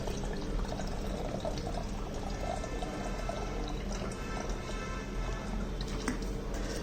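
Petrol poured steadily into a fuel measuring device, a continuous liquid splash and trickle with no pauses, close and even in level throughout.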